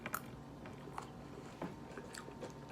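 Collard greens seasoned with sriracha are chewed close up, with a few crisp, wet bites and soft mashing at an irregular pace. The chewing is quiet and there is no talking.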